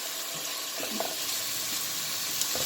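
Vegetables sizzle and hiss steadily in a pot for a Puerto Rican stewed cod dish, with a few soft clinks and scrapes of stirring rising over the constant frying crackle.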